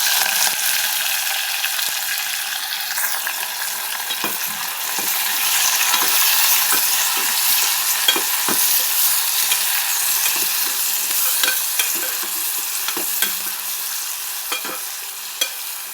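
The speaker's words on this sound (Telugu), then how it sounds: "నెక్స్ట్ వచ్చేసి మనం ముందుగా స్లైస్ చేసి పెట్టుకున్న ఆనియన్ పీసెస్ అనేది దాంట్లో ఇప్పుడు యాడ్ చేసుకుందామండి." Sliced onions and curry leaves fry in a pan for a beans masala curry, giving a steady, loud sizzle with frequent scraping clicks of stirring throughout and no talk.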